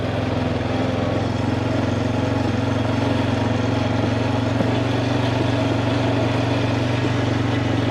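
A heavy diesel tractor engine runs steadily with a deep, constant rumble, close and loud throughout, with no other sounds.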